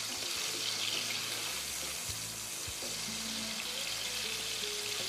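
Tomatoes softening in olive oil in a pan give a steady, continuous sizzle that stays even throughout, with a few faint clinks of a utensil and no voices.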